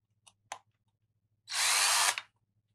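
A couple of faint clicks, then a power drill whirs loudly and steadily for about a second before stopping, drilling into an enclosure.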